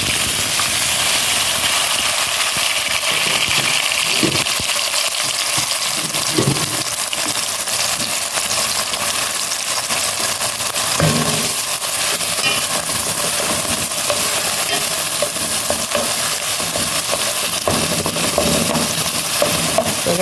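Onion and seasoning sauteing in hot oil in a pot, a loud, steady broadband sizzle and hiss with a few faint clinks, no voices.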